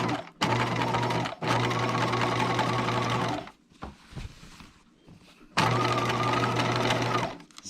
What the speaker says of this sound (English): I'm going to understitch the lining itself